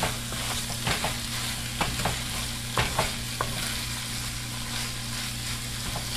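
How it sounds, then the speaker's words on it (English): Shrimp being stirred into onions and spices in a hot pan, a steady sizzle with a low frying hum, broken by several scraping clicks of a utensil against the pan, no voices. "And make sure you mix it into the onion so that all those wonderful spices can coat it."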